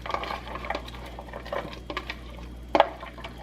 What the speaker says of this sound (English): And then I've got 2 medium onions here I'm going to add in.